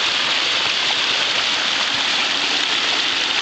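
Brook water rushes steadily and loudly around a small homemade micro hydro generator set right in the stream, a constant close hiss of flowing water with no breaks.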